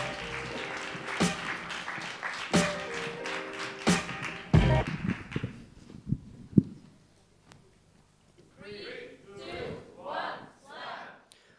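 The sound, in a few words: audience applause for a slam poet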